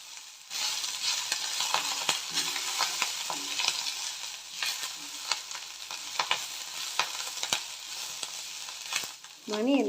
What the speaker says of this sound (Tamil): ஒரு கைப்பிடி ஃப்ரெஷ்ஷான கருவேப்பிலை, கூடவே ஒரு கை நிறைய மல்லி இலைகளை சேர்த்துட்டு நல்லா வதக்கிக்கலாம்